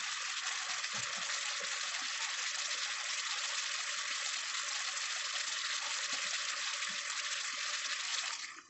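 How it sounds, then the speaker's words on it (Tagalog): Water gushes steadily into a cooking pot of vegetable adobo, a continuous close hiss that carries on for several seconds and cuts off at the end, with a few faint clinks beneath it. "mag-add tayo yung tubig para may konting sabaw."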